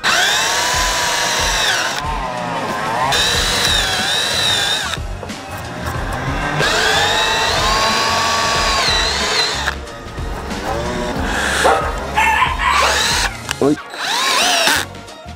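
A power drill bores into a tabletop in repeated bursts, whining up and down in pitch with brief pauses between, loud and close, while a person speaks in Spanish between runs.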